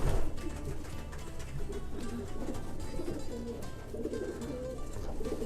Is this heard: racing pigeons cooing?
yes